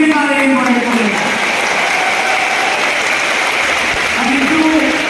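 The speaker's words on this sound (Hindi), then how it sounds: "बहुत जोरदार तालियां बजाने का इन लोगों के लिए जिन्होंने बहुत वंडरफुल प्रोजेक्ट किए हैं।" An audience at an education event claps steadily and fairly loudly in dense, even applause that holds for several seconds, with faint voices beneath.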